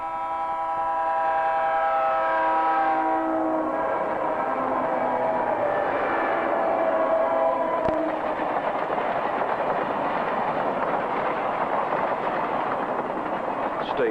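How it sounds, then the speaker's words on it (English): A train passing a level crossing in an old played film, its horn sounding in long loud blasts before giving way to the rumble and rattle of the passing cars. "Stay back until the train passes."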